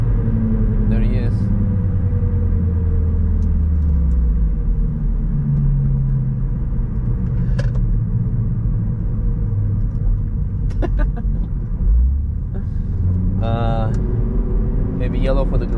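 Volvo C30 T5 with a remap driven hard around the Nürburgring, its engine a steady loud rumble inside the cabin throughout, while people talk over it.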